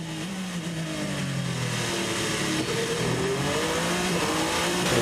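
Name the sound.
Le Mans endurance race car engine passing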